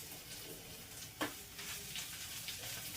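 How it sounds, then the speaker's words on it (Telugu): Beetroot frying in a pan gives a steady, quiet sizzle throughout, with a single brief clink of a utensil partway through. "ఇలా వేసేసి చక్కగా మనం ఫ్రై చేసి 5 నిమిషాలు అయిపోద్ది."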